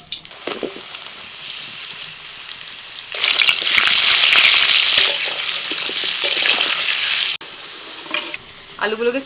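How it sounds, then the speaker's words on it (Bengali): Potatoes fry in a pan for a Bengali chicken dish, giving a steady loud sizzle that swells in the middle, with occasional stirring and utensil clinks against the pan. "আলুটা প্রথমে ভেজে নিচ্ছি"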